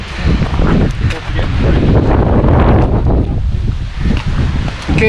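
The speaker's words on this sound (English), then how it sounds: "The wind started to pick up." Strong wind gusts roar across a wilderness backpacking trail in rainy weather, a steady loud buffeting on the microphone with brief dips in force, while a person speaks now and then underneath.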